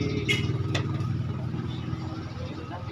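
A motorcycle engine idles or runs at low revs nearby with a steady rumbling putter, a couple of brief sharp clicks over it.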